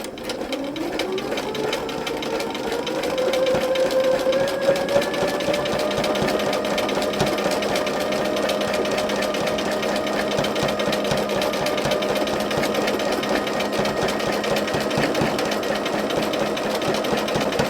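A sewing machine runs steadily for free machine stitching on fabric, a continuous close mechanical whir with a fast needle rhythm that picks up speed after a few seconds and holds there, with no talking.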